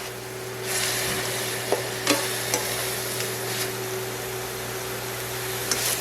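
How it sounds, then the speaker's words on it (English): A garlic mixture sautés in a pan for pork egg rolls, giving a steady close sizzle with occasional sharp scrapes and taps of a utensil as it is stirred. "And we want to saute these for about 2 minutes"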